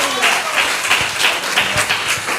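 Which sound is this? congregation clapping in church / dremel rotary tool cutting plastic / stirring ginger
congregation clapping in church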